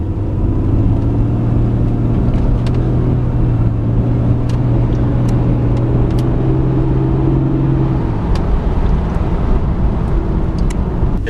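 A BMW E46 with a vacuum fault drives along, its engine a loud, steady rumble under heavy road and cabin noise; the low drone eases slightly near the end, and no one speaks.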